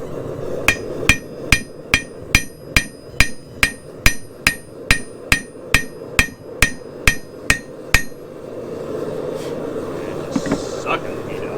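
A hammer forging hot steel for a knife: about twenty sharp, ringing metallic blows at a steady, brisk rhythm, loud and close, then stopping, leaving a low background roar of workshop noise.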